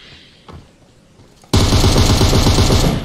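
Loud, dense automatic fire from an M762 rifle in a battle royale shooter game, a rapid continuous burst starting abruptly after a quiet stretch with a faint earlier shot.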